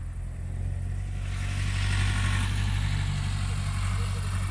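Tractor engine pulling trailers of straw at harvest, a steady low diesel drone that swells slightly after the first second and holds at moderate distance.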